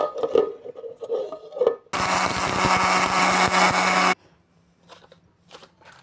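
A loud, steady mechanical grinding roar of a mixer grinder crushing rock salt runs for about two seconds, bracketed by quieter handling clatter before and after.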